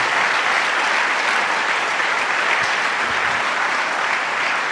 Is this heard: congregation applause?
yes